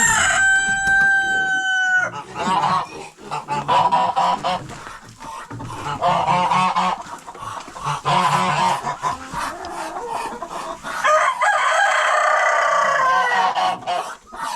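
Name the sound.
chickens and roosters crowing in a farm coop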